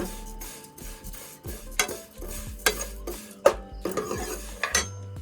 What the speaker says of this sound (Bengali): এদিকে কিন্তু এটা ভাজা চলছে অলরেডি এখনো